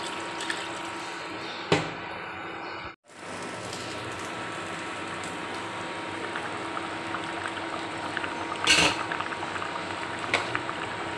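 A fish curry gravy made with mustard paste, potatoes and fried eggplant bubbles steadily in a pot, with a soft, continuous simmer and a few brief clinks and clatters nearby.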